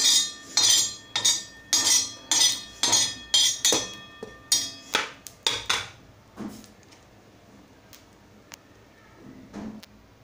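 Roasted dry coconut is scraped from a pan onto a plate: about a dozen quick, evenly spaced metallic scrapes and clinks up close, then a few scattered softer taps as it quiets down.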